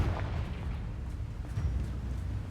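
A rumbling, explosive spell blast from the Hogwarts Legacy video game, a deep continuous boom with a dense low roar and crackling bursts throughout, fairly loud.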